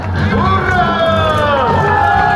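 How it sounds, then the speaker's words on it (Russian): Outdoor crowd on a city square in Abakan cheering at a Christmas tree opening, a loud dense roar of voices with whistling tones over it, continuous for the whole stretch. "Аплодисменты!"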